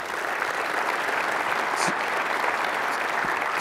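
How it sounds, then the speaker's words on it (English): A conference audience gives a brief round of applause at an engineering talk, a thick, even patter of clapping throughout, with a faint whoop or voice poking through. "So let's give Gary a round of applause."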